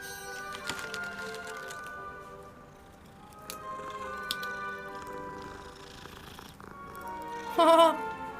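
A cat in Hogwarts Legacy purrs softly under ambient game music and scattered effects, ending with a brief louder tonal chirp near the end.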